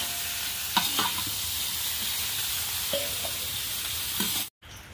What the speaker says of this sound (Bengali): এবার আমি এটাকে ভালো করে ভেজে নেব।